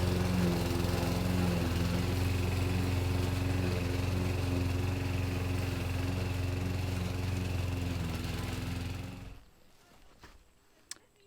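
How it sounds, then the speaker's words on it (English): A two-wheel tractor engine runs at a steady, close drone for about nine seconds, then cuts off abruptly, leaving near silence with a faint click at the end. "And then I will run in the two-wheel tractor."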